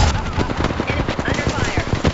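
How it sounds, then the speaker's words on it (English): Rapid automatic gunfire from the video game Apex Legends, a dense, loud burst of closely spaced shots rattling continuously with a faint voice mixed underneath. "I'm taking fire."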